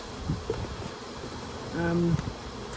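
Honeybees buzzing steadily at a hive in a low hum, with one louder insect drone passing close for a moment over faint background noise.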